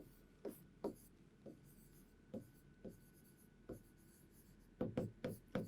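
A teacher writes an answer on a board in a Class 12 English lesson, with a series of short scratchy strokes in irregular bursts that end in a quicker cluster. No one speaks.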